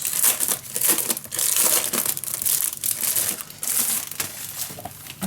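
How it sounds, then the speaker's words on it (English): Close, continuous crinkling and crumpling of a plastic wrapper as a crafts package from a hobby and craft store haul is unwrapped, with irregular bursts of rustling and no talk. "So I'm gonna unwrap this and I'm gonna show you. Okay, let me unwrap this."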